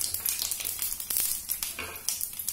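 Mustard seeds sizzle and crackle in hot oil in a pan for a tempering, a steady, close hiss with quick popping bursts throughout.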